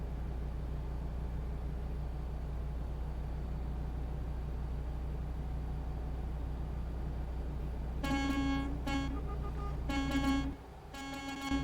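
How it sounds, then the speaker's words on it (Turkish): A truck's air horn in American Truck Simulator blasts in several loud bursts near the end, over a steady low engine drone that runs throughout. "Havalı korna."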